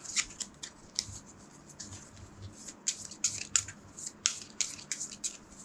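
Cards being shuffled for the Endless Winter board game, a quick series of crisp riffling bursts and soft taps, close and fairly quiet with no talking.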